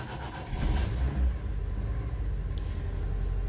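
A 1996 Daihatsu Zebra van engine idles smoothly and quietly as a low steady rumble, with a slight swell near the start and no talking.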